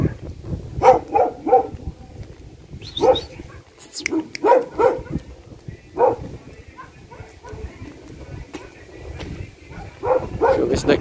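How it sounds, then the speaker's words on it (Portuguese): Several dogs bark and whimper outdoors at night, loose dogs somewhere nearby, in repeated bursts of barks and yips with people talking quietly between them. "tem uns cachorros soltos lá"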